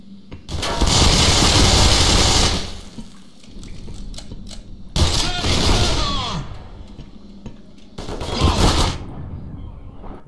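Heavy gunfire in the video game Black Mesa comes in three long, loud bursts of sustained shooting separated by quieter gaps with lingering rumble and scattered clatter.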